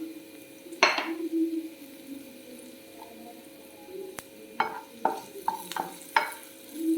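Green chilies are stirred in a pan while frying for beetroot pickle: a soft sizzle runs underneath, and a utensil scrapes and taps the pan in short irregular strokes, close by, with no speech.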